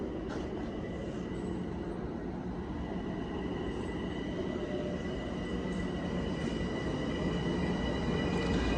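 A train pulls into Mineola station at night, a steady rumbling roll of wheels on rail with faint squeals and tonal hums above, close and continuous.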